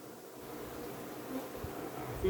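Africanized honey bees droning around a hive frame, a brief steady low buzz held close throughout.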